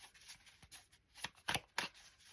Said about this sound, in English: Let me see if I can shuffle and see if it comes out again.